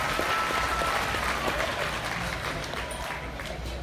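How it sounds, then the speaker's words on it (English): An audience at the 2017 Arizona National livestock show gives a sustained round of applause, with dense, steady clapping filling the arena throughout. "Let's give Caitlin a big round of applause."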